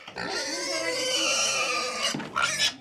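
Continuous grunting and squealing from pigs, close and fairly loud, with a brief break before a final burst of squeals.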